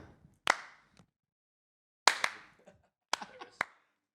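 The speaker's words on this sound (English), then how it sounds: "A nice slow clap as he comes on" Audience members give a slow, sparse clap as podcast guest Owen Reeman walks on, a few isolated sharp claps spaced apart in a quiet room, with gaps of silence between them.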